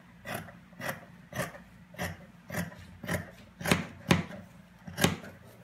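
Skirt fabric cut with scissors in a series of about ten crisp, regular snips, close up and steady, with no talking.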